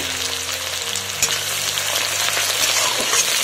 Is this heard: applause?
no